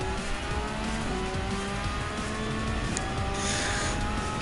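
Lexus RC F GT3 2017 race car engine in Gran Turismo 7, a continuous high-pitched roar with shifting revs and brief tire squeal, steady and close throughout.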